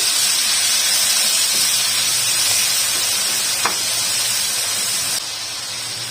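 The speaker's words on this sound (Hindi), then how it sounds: "इसको अच्छे से फ्राई कर लेंगे।" Egg masala curry for a restaurant-style anda gravy sizzles steadily in a pan, a continuous bright frying hiss at close range that dips slightly in level near the end, with no talking.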